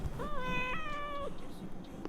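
A pet cat about two years old gives one drawn-out meow indoors at home, close and fairly clear against faint room noise.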